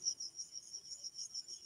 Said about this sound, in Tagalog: Dito yun, Ate Sabs, may kuliglig.